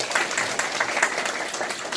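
An audience at a book club gathering gives a round of applause, steady clapping throughout with no talking over it.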